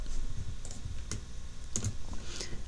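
A few quick computer keyboard key presses for a Ctrl+X cut shortcut while editing audio in FL Studio, sparse clicks over a low steady hum, no talking.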